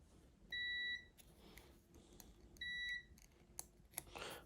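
Two short high-pitched beeps from a multimeter continuity test on a 1974 Jensen Interceptor dash warning lamp, each about half a second, close and clear, followed by faint clicks and handling noise.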